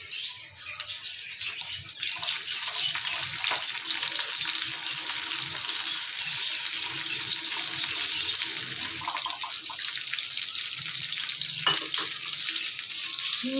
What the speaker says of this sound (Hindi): भिंडी को हमने तब तक फ्राई करना है जब तक इसका थोड़ा कलर नहीं चेंज हो जाता।